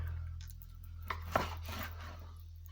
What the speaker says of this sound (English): Make sure it's cut all the way.